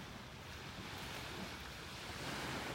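Steady wash of surf on the beach at Delnor-Wiggins in North Naples, Florida, a continuous broadband roar with wind buffeting the microphone, no talking.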